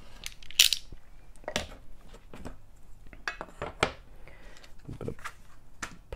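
A knife trimming plastic on a cutting mat, a series of sharp clicks and scraping cuts in irregular bursts, close and fairly quiet, with no talk.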